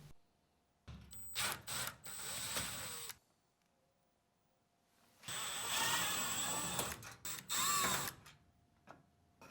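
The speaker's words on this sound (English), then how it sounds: "Remove all 4 screws." A powered driver removes T20 screws from the control panel of a Frigidaire range. It makes two faint whirring bursts of a few seconds each, separated by quiet pauses and light handling clicks.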